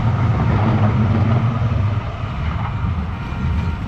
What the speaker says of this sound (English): One minute I see no trains. Now I see loads of trains.